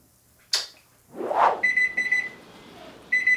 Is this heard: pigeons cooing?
no